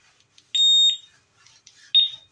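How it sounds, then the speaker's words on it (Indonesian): A Honda motorcycle alarm module answers its arming with loud, sharp electronic beeps: a longer high chirp, a shorter one, then another after a pause. "Alarm aktif, answer back"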